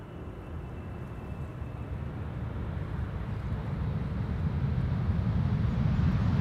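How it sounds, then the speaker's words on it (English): A KLM airliner arriving from Cape Town makes a low, broad engine roar that swells gradually as it approaches, continuous and growing louder, with wind buffeting and no talking. "This is KLM flight 598, which is arriving from Cape Town."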